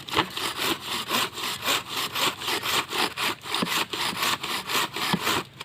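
A hand saw rasps back and forth through firewood in quick, regular strokes, close and loud, with no one talking.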